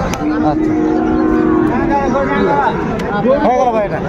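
A Shahiwal bull lowing at a busy cattle market, one long moo followed by shorter calls over the constant babble of a crowd.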